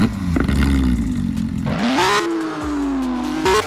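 Car engine starting up in the Pacifico 2 video game: a cranking clatter catches into a rising rev, then settles into a steady, loud mid-pitched idle with a brief blip at the end.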